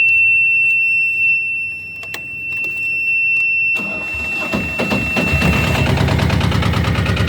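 A remote-controlled Dynapac LP8500 trench roller: a steady high electronic tone at first, then the machine's engine roars up into a loud, dense rumble that carries on to the end.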